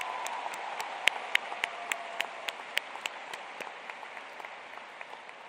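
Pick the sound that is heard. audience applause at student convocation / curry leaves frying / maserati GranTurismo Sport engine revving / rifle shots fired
audience applause at student convocation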